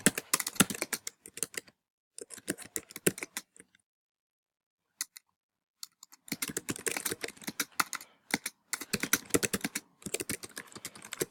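Assignment name typed on a computer keyboard, with rapid, close key clicks in quick bursts separated by a few short pauses, and no speech.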